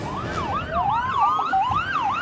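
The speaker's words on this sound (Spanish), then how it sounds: "El sonar de las ambulancias y los patrulleros alertaban de que algo sucedía dentro del centro de rehabilitación social." Ambulance and police car sirens wail outside the Latacunga prison in Cotopaxi during a riot, several overlapping rising and falling tones, loud and close over street noise.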